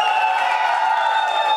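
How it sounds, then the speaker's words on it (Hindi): An audience at an album launch event cheering and clapping loudly, a steady dense roar of crowd noise with sustained tonal whoops running throughout. "बट एक बार जोरदार तालियां हमारे विकास जी के लिए सर"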